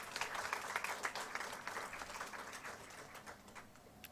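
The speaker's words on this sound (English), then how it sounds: "Give yourself a big round of applause because you deserve it." Newly inducted MBA students at a student induction ceremony clap as an audience, a fairly quiet, even patter of applause sounding from some distance throughout.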